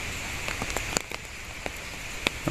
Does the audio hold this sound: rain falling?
yes